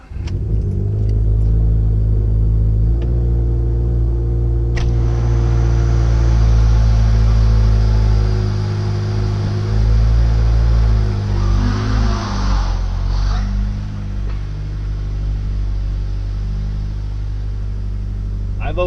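A 2015 Subaru WRX Stage 2 with an STI catback exhaust cold-starts and settles into a loud, steady idle with a deep rumble, with a few revs partway through and keys jangling near the start.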